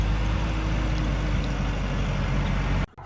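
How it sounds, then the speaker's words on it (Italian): A tractor driven by a learner circles a parking lot, a steady loud diesel rumble with broad engine noise that holds throughout and drops away abruptly at the very end. "C'è una ragazza che fa scuola guida con un trattore e quindi sta girando nel parcheggio qua."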